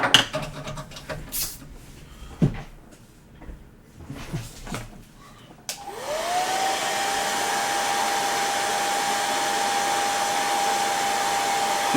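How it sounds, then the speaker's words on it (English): After a few small clicks and handling noises, a hair dryer switches on and blows with a steady whirring hiss, close and constant. "Just using a hairdryer."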